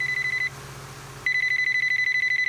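A phone rings in the video game Sub Rosa, a repeating electronic trill that pauses briefly and then resumes, loud and close with no talk over it.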